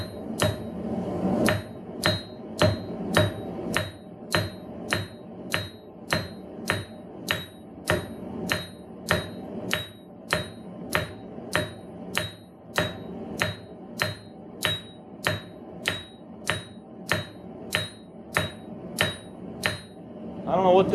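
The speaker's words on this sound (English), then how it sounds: "Takes a lot more hammering than usual." A blacksmith hammers an unknown hard steel, harder than mild steel, to draw out the end of a piece for candle holders. Over thirty loud, ringing blows fall in a steady, even rhythm, close up.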